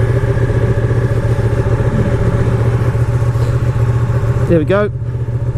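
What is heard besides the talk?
Ducati Panigale 959 Corse motorcycle engine running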